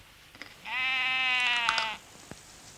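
A single sheep bleats once, a clear, close and sustained call lasting over a second, with faint rustling before and after.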